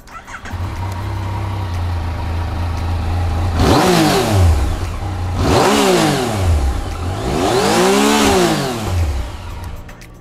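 An idling motorcycle engine is revved three times, each throttle blip rising and falling in pitch, loud and close.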